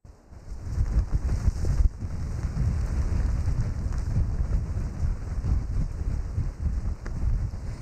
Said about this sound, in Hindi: कराची में मूसलाधार बारिश हो रही है, ठंडी हवाएं चल रही हैं।